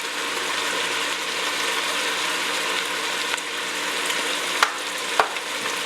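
A pepper mill grinds black pepper in rapid ratcheting clicks, a dense continuous gritty rasp heard close, over a pot of green chili stew, ending with a few sharper clicks and no speech.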